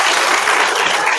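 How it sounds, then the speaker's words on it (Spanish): Loud, dense applause for a doctor stepping up to speak, a full crowd clapping steadily and close. "le cedemos la palabra con un fuerte aplauso"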